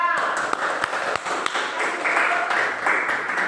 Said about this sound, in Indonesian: Silakan beri aplaus untuk kelompok 2